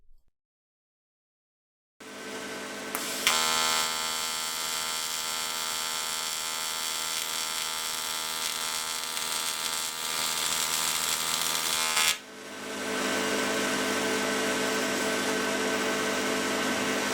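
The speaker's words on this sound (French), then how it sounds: "On peut continuer la soudure par rapport de métal." TIG welding of an aluminium wheel rim with filler metal produces a steady electric buzz and hum that starts after silence, runs for about ten seconds, then briefly drops and resumes.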